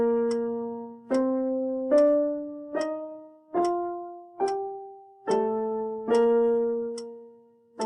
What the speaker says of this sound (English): you can just drop them down to the lower pitch and it will sound what's called a broken scale